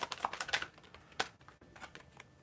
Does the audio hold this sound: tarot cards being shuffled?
yes